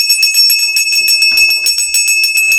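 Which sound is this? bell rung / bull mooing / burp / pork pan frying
bell rung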